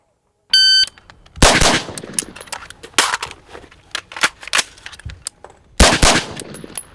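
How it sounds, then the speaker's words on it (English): A shot-timer beep is followed by loud, close pistol gunfire during the 4 aces drill at night with night vision, with quick pairs of shots broken by a pause for a reload. "We're gonna shoot the 4 aces drill."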